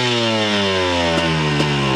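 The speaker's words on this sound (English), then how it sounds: "rev up your bike," A dirt bike engine held at high revs at a motocross starting gate, a steady loud buzzing drone close by with two small blips, and no voices.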